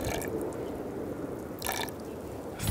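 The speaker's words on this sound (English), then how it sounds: "Quarter of a cup of apple cider vinegar." Apple cider vinegar is poured into homemade smoky BBQ sauce, a short, soft liquid trickle heard up close, with quieter gurgling spells in between.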